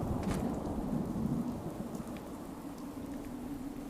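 Steady rain in the video game Fallout, a dense even hiss of drops falling on surfaces, moderately loud and continuous with no voices.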